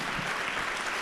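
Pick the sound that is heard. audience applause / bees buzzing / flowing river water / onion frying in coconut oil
audience applause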